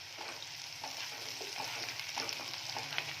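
Garlic, ginger and chillies sizzle in a pan of frying onions, a steady close hiss with faint scattered crackles and occasional light stirring, no voices.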